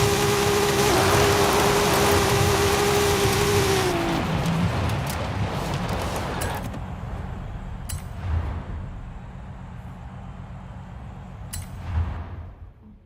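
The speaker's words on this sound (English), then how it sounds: "So what car is this? It's a Mustang?" A Ford Mustang drives along in steady road noise with a constant engine drone that fades after a few seconds, leaving quieter rolling sound and a couple of faint bumps.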